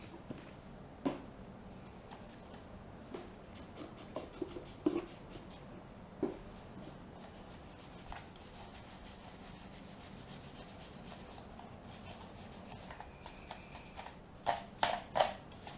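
A whipper snipper is scrubbed with multi-purpose cleaner to lift grime, giving quiet close rubbing and scraping strokes with scattered sharper knocks and a brief cluster of louder scrubs near the end.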